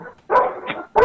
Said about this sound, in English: My dog's making noise.